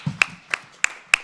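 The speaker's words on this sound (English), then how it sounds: "Please give a round of applause to these speakers before we start." Audience applause for a panel of speakers begins as four sharp, separate hand claps spaced about a third of a second apart, close and fairly loud, with no voices.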